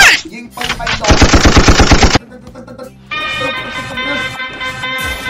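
Rapid machine-gun bursts fire in the Shark Hunter fish-shooting arcade game, a dense rattling volley for about a second, then a pause and bright chiming game effects and music.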